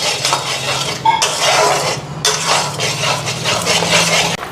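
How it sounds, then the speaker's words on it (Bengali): Food fries in a pan with turmeric while a utensil stirs and scrapes against the metal, giving a steady sizzling hiss broken by clinks, loud and close with no talk. "এখন ভালো করে ফ্রাই করে নিয়ে এটা"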